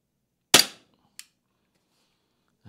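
A VFC G19 airsoft pistol fires one sharp, loud crack during a chrono test, followed by a small click and a faint tap in otherwise quiet surroundings.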